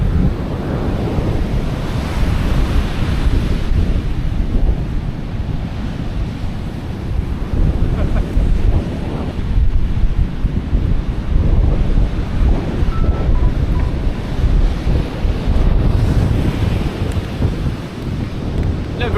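Waves rolling onto the beach at Sandwood Bay, a loud continuous roar of surf mixed with heavy wind buffeting the microphone, no speech.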